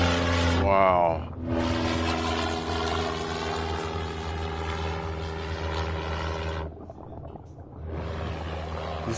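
An airplane flies overhead with a loud, steady droning roar that holds for several seconds. The roar drops away briefly near the end, then returns.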